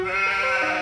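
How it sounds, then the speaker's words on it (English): A single sheep bleats loudly and close by, one sustained wavering call lasting under a second with no talk over it. "The sheep's back."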